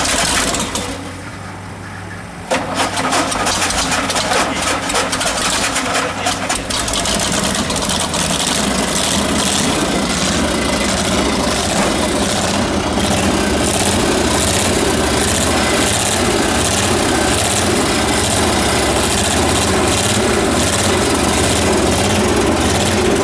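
A motor carried on a cart runs at a steady idle, a loud continuous rumble that starts abruptly after a quiet moment and holds an even, unbroken drone to the end.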